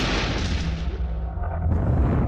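A loud, deep rumbling blast from an explosion and fire at an oil rig in the Gulf of Mexico, a heavy roar that fades and then swells again with a low boom.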